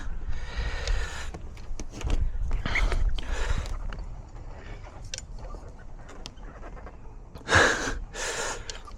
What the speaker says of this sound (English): I don't really want to be heavy breathing into the camera too much.